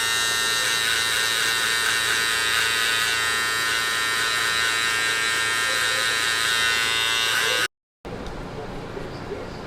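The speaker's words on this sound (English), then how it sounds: "Use the trimmer. Go against the grain." An electric hair trimmer runs continuously at close range, cutting against the grain on a simple guard-step fade, a steady loud buzz that breaks off for a moment near the end, then a quieter, rougher buzz.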